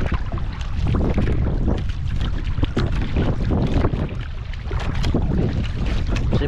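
Loud, steady wind roars and buffets the microphone throughout, with water sloshing beneath it; no voices.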